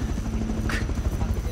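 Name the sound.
helicopter in the video game Rust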